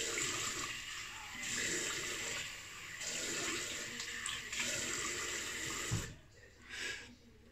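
A bathroom tap runs cold water for a rinse after shaving, giving a steady close splashing rush with small changes as hands move under the stream, then a few brief splashes as it stops near the end.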